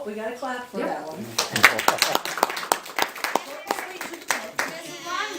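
An audience claps after a piece at a children's piano recital, a scattered burst of sharp, close handclaps lasting several seconds, with a voice and other talk audible at the start and between claps.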